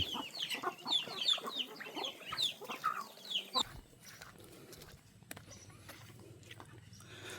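Laying hens cluck and squawk at a rural Thai village farm in the evening, with busy overlapping calls for the first few seconds before the flock quiets to a faint, sparse background.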